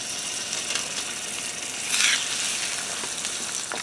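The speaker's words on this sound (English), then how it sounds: "So I'm going to get these in. I'm going to do them for 6 minutes per side." Pork chops fry in olive oil with a steady, close, broadband sizzle and crackle that swells briefly midway, with a few faint clicks of handling and no talking.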